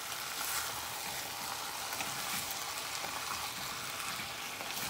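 Diced tomatoes stirred in a frying pot, a dense continuous sizzle and bubbling fry with a faint swirling stir underneath, close and steady throughout, no voices.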